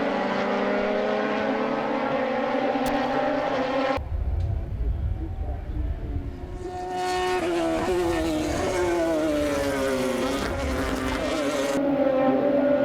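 Race cars battle side by side through the turns and esses of a circuit at the WA Sporting Car Club's final round of the 2023 season: several engines drone loudly and continuously, pitch rising and falling as they jostle through corners.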